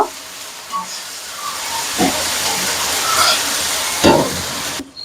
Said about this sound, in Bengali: এবার দিয়ে দিলাম মশলাটা সুন্দর করে মশলাটা আমি কষিয়ে নেব